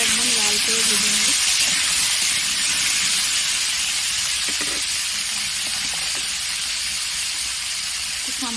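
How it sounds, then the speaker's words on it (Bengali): Potatoes frying in hot oil give a loud, steady hiss and sizzle that fills the whole stretch, with a few faint knocks underneath and a voice briefly heard near the start. "আলুগুলো একদম লাল করে ভেজে নেব।"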